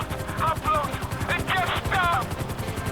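A helicopter in the video game GTA 5 thumps with a fast, steady rotor beat throughout, while voices talk over it.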